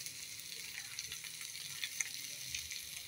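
Noodles fry in a home kitchen pan with a constant close hiss and sizzle, broken by faint light clicks of stirring.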